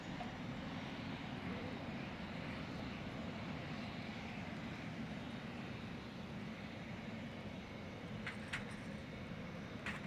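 A fixed-wing airplane at Van Nuys Airport in California, heard as a steady, distant engine drone that holds level throughout, with a couple of faint ticks near the end and no voices.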